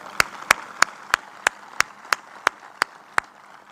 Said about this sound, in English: Let's welcome Uday with a very big applause.